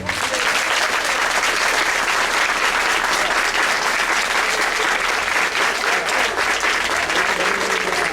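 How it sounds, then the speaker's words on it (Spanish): A packed town-square crowd in Nieves, 2014, gives loud, dense, continuous applause before an accordion concert by a local music school group, with no break across the whole stretch. "Vamos a dar un aplauso antes de que empece."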